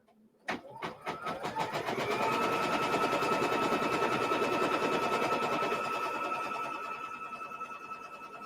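A sewing machine runs steadily for several seconds, stitching quilt fabric after a click at the start; the motor hum is close and continuous, gradually easing off near the end.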